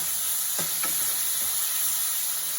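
Two medium tomatoes drop into hot oil in a pan for Andhra-style dal, giving a steady close sizzle and hiss with a few sharp stirring clicks.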